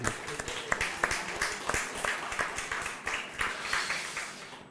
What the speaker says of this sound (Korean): 우리 한번 격려의 박수를 한번 줄까요?